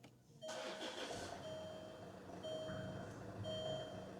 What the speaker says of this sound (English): Car is now running.